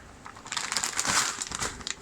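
A plastic ziplock bag holding jasmine white rice crinkles and rustles up close, building to a louder burst of crackling in the middle before easing off, with no voices.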